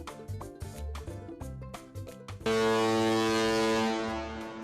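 A cruise ship's horn sounds one long, loud, steady blast that begins partway through and holds to the end, after some brief tonal sounds.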